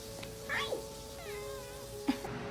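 Rescue cats meow in short, separate calls, one rising then falling cry early on and a brief, sharper yelp near the end, fairly quiet against a steady background.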